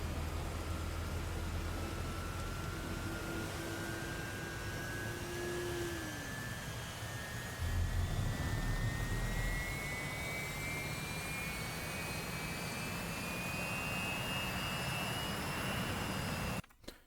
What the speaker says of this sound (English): F-16 coming in, with the F-15 coming in the other direction.